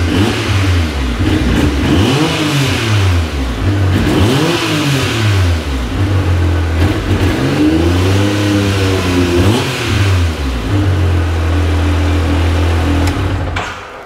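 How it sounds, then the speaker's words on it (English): Modified Yamaha YXZ side-by-side with aftermarket exhaust revving repeatedly, loud and close, with rising and falling engine sweeps over a steady idle rumble and no talking. "listen to this exhaust note now"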